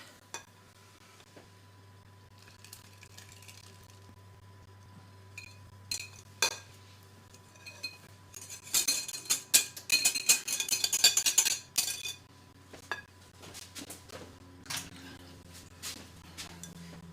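A utensil stirring wet ingredients into dry to make thick, lumpy waffle batter in a bowl, giving soft scraping and a run of quick clinks against the bowl in the middle, then quieter stirring.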